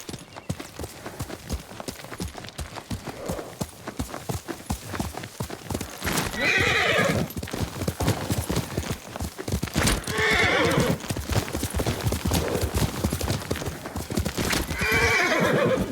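Steady clopping hooves in a video game, with a horse neighing loudly three times, each whinny rising over the continuous trotting.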